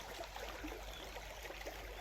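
Water flows steadily into a farm field, a continuous rushing, gurgling wash that stays even and fairly close throughout, with no voices.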